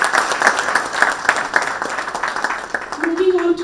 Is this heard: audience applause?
yes